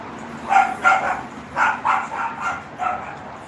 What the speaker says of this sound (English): Badass dog.